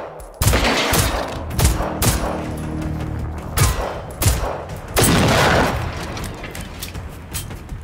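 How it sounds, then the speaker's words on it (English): Bursts of gunfire in the video game Generation Zero, with rapid shots, booming impacts and rattling volleys, loud and close across the clip. "I'm looking at the wrong thing when I shoot"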